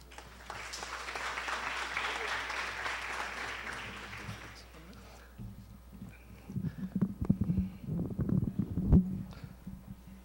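Applause from an audience at an opening ceremony fills the first half, fading out, followed by a nearby voice speaking over a low hum.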